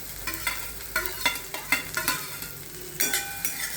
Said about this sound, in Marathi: हा जो बटाटा कुस्करलेला आहे तो संपूर्ण त्याच्यात घालून घेऊया।